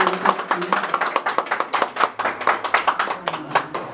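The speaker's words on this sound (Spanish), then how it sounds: "El aplauso bonito para él." Lively clapping from guests at a quinceañera party with a youth mariachi band, quick distinct claps close to the microphone in an uneven rhythm, with voices mixed in.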